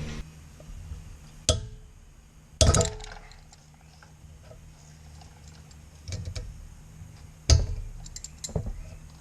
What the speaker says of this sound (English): we're gonna go ahead and loosen the top 14mm bolt and the bottom 14mm bolt